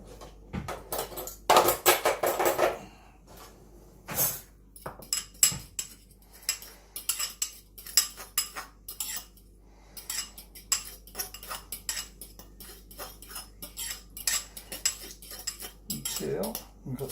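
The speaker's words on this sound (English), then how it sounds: "And then we're going to give it a stir." A metal spoon stirs a marinade of olive oil in a bowl for a lamb dish, its repeated clinks and scrapes against the bowl sounding close and crisp, coming in irregular bursts with brief pauses between them.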